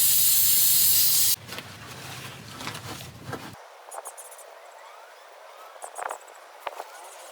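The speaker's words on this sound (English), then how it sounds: "Get a little spray." A loud, steady hiss of aerosol spray for about a second, then quieter rustling and handling clicks, during timing belt work on a Volvo 240.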